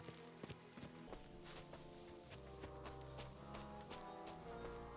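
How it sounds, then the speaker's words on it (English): Horse hooves clip-clop in the woods in the video game Kingdom Come: Deliverance II, a steady walking rhythm of clear, close hoof strikes over faint ambient forest sound. "A horse? What's it doing here in the woods?"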